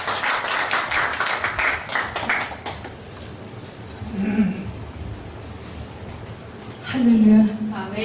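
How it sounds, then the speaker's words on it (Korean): Brief burst of audience clapping welcoming a singer at a church worship service, fading after a few seconds into quieter room sound with speaking voices. "박수로 환영해 주시기 바라겠습니다"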